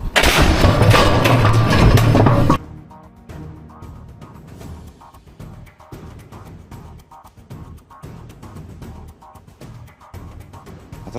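Artillery fire and explosions on targets in Russia-Ukraine war footage: a loud, dense blast roar at the start, then a quieter stretch of scattered distant booms and rumbling.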